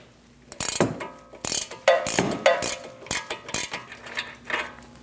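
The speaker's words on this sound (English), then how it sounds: "Using a 21mm wrench and a 10mm wrench, we're going to hold the stud while we remove the nut." Wrenches working the tie rod jam nut on a Dodge Durango front outer tie rod: a string of sharp metallic ratcheting clicks and clanks in quick irregular bursts, close and fairly loud, with no talk.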